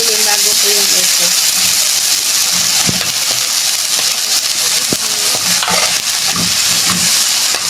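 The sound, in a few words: ground meat frying and being stirred in a pan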